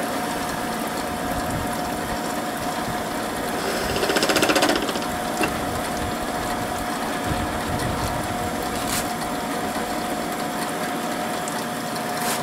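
Power saw grinding steadily through a 29-layer steel billet, a continuous loud mechanical whir with faint ratcheting texture and a brief louder surge partway through; no talking.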